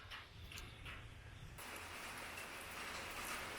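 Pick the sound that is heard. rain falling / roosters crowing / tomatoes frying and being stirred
rain falling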